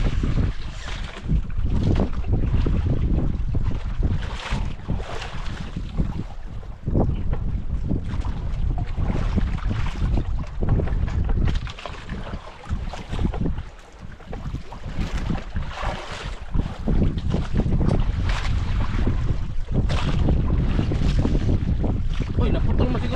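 Wind gusts buffet loudly across open water with no current, rumbling and roaring in uneven surges, with occasional muffled voices beneath.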